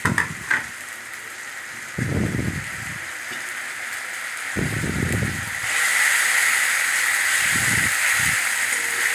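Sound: frying masala with tomato, ginger and green chilli paste

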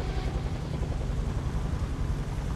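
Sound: helicopter in the video game Days Gone

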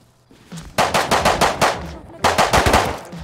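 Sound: MP5 gunfire in the video game Rust

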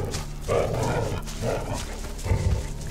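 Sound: dog in video game

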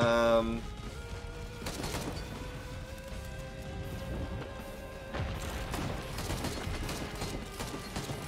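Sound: gunfire barrage in a video game

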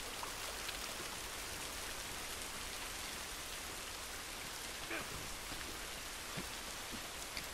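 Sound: waterfall rushing water in the video game The Last of Us

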